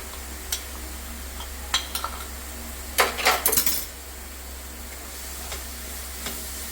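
A spoon stirs fish masala with turmeric and salt in a sizzling pan for a Kerala-style prawn roast. A steady frying hiss runs under sparse scrapes, with a cluster of loud metallic scraping strokes midway.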